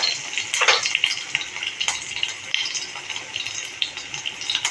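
Curry leaves and turmeric go into hot tempering oil for moong dal varan, giving a bright, steady sizzle with metal utensil scrapes and clinks over it, close and continuous, with no talking.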